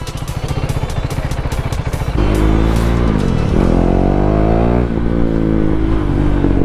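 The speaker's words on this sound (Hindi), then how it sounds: "सुपर बाइक जा रही है" A ten-cylinder superbike goes past on a road, its engine revving hard and loud and then holding a rising, steady roar.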